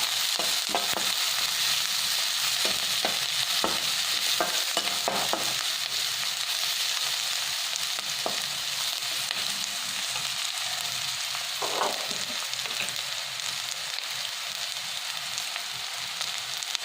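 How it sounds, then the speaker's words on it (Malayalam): Chopped onions sautéing in a pan for a Kerala-style duck curry, a constant bright sizzle with a cluster of quick stirring clicks early on, close and alone. "അതിലേക്ക് അരിഞ്ഞു വെച്ചതായിട്ടുള്ള സബോള, ഇട്ട് ഒന്ന് നന്നായി വാട്ടിയെടുക്കാം."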